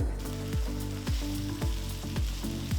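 Chopped beans, carrot, fresh green peas and capsicum sizzle in a pan under steady frying, while rhythmic stirring strokes scrape through about twice a second.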